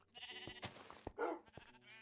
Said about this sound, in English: Oh, sheep. Fight the sheep.